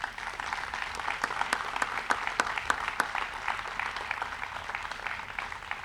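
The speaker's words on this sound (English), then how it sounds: "You can give them a round of applause for that." Audience applause at a Memorial Day program, a steady wash of many hands clapping with a few sharper individual claps standing out, moderately distant and sustained throughout without talk.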